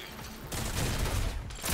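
Gunfire in the video game Rogue Company during a bomb-site round, a dense burst of rapid shots that swells after a brief lull and stays loud through most of the moment.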